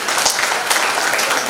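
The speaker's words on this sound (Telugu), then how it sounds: "మరి గట్టిగా చప్పట్లు కొట్టరా?" A women's association audience at a Vasavi Vanitha event in Amaravathi claps loudly and densely, a continuous close burst of applause with no talk.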